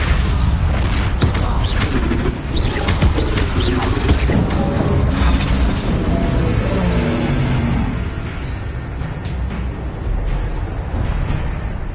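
A Confringo blasting spell explodes in a Harry Potter video game, heavy booming blasts and crashes layered with dense game effects and music, loud throughout, with brief shouted voices mixed in.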